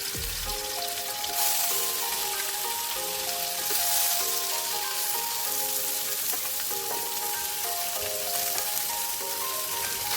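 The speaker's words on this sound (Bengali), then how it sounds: "খালি করার মতো তেল দিয়ে মাছগুলো ভালো করে ভেজে নেব" Small puti fish fry in hot oil, a constant dense sizzle and crackle heard close up and loud, alone with no talk.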